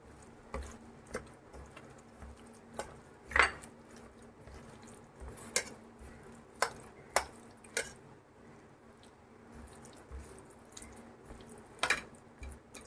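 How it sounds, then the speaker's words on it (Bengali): Fresh chhana being kneaded by hand with raw mustard oil and salt for chhana bhapa, giving soft, wet squishes and occasional sharper pats, spaced irregularly and quiet against a faint background hum. "এবারে আমি একটু ভালো করে মাখিয়ে নিচ্ছি"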